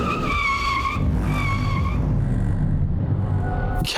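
A car's tires skid and squeal loudly as it brakes to a sudden stop, with rising and falling screeches over a continuous engine and road roar, close and dramatic.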